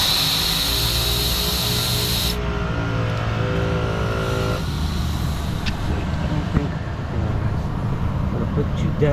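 An ARB air compressor running on a Gen3 Mitsubishi Montero, a loud steady mechanical drone with a tonal whine that shifts partway through, close to the microphone with no talking over it.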